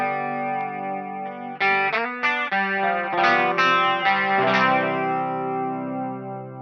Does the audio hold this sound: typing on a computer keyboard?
no